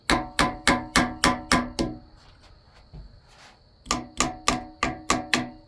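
Parts are tapped into place on a Honda K24 engine during a timing build: two quick bursts of about seven crisp, evenly spaced metallic taps, close up, separated by a short quiet pause.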